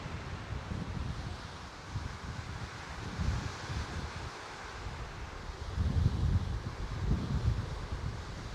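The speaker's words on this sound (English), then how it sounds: "But look at this wind. Crazy. Just blowing these trees." Strong wind blowing through trees in the Cairngorms, a constant roaring rush with rustling leaves and gusts swelling louder toward the end, buffeting the microphone with no voices.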